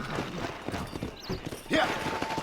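Horse hooves clip-clop in a brisk rhythm as a rider sets off at speed in the video game Red Dead Redemption, close and steady beneath game music and ambient noise, with a brief voice near the start.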